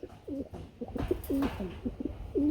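A large pigeon coos repeatedly nearby in low, throaty rolling phrases, with light background rustle between the calls.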